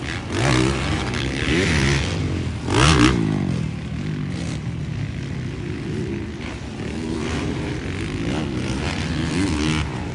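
Motorcycle engine revving hard during a final race in Lanao del Sur, loud buzzing with rising and falling pitch sweeps as bikes pass, and a brief louder surge near the start.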